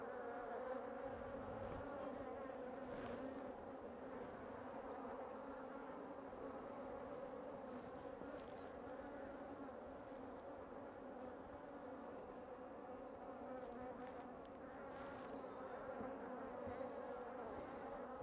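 Bees from an aggressive beehive buzz in a dense, continuous drone that holds steady throughout, loud and close with no voices.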